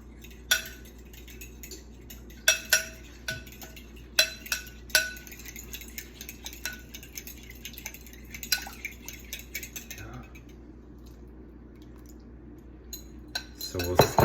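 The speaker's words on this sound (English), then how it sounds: "So we'll stir this till it's well combined." A spoon stirs a flour mixture in a bowl, giving a string of clinking, scraping knocks that come in irregular bursts, fairly close and moderately loud, then ease off and pick up again near the end.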